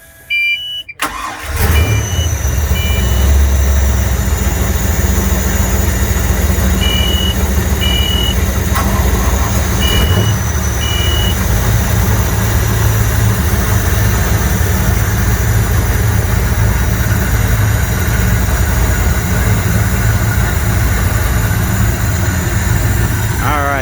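The engines of a Fountain 32 Fever powerboat crank and catch, then settle into a steady, deep rumbling idle that continues throughout, with faint high beeping tones early on.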